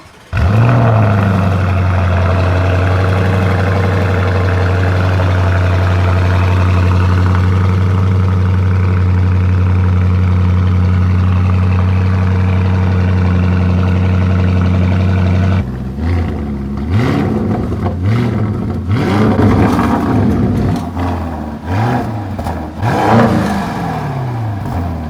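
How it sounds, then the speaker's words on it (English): A 2022 Lamborghini Urus V8 with an Akrapovic racing exhaust cold starts and holds a loud, steady high idle, then is blipped through a series of sharp, aggressive revs. "listen to the revs and the sound with cold start by the"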